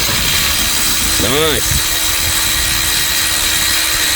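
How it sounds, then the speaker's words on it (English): A rattle gun zips a bolt off a Nissan Navara D40 2.5L diesel during power steering pump removal, one brief rising-and-falling whirr against workshop background noise, followed by a short spoken remark. "Another success from the rattle gun."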